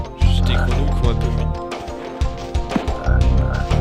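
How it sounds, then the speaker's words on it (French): Frog creatures croak in the Spyro video game, deep repeated croaks in irregular bursts mixed with game sounds, fairly loud and close. "C'est tous des grenouilles en fait, je crois."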